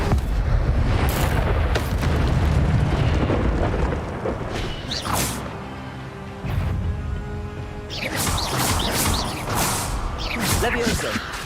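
The Incendio fire spell in Hogwarts Legacy goes off in a loud whooshing blast with booming impacts and rumble. Shouted spell incantations and other clashing combat effects sit over it, and the mix stays dense and close.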